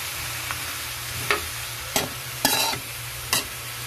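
Long bean leaves and Baguio pechay being sautéed with ground meat in a pan, a steady sizzle under several sharp scraping stirs of a spatula, close up with no talking.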